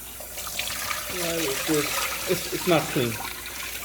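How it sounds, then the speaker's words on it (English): Raw chicken pieces rinsed under a running kitchen tap, water splashing and trickling steadily into the sink while a person talks over it. "I'm going to keep washing it till I get like clear water"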